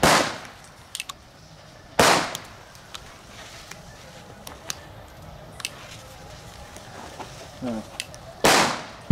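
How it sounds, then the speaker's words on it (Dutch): Small firecrackers of the rotje type go off in three sharp, loud cracks spaced several seconds apart, with faint clicks and handling noise in between. "Eigenlijk gewoon een soort rotje."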